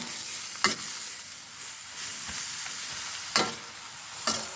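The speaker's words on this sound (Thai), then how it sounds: "เราก็จะผัดเข้าให้เข้ากันสักครู่นะคะ" Pork and bamboo shoots sizzle steadily in a hot wok while a utensil scrapes and stirs, with a few sharp clanks against the metal.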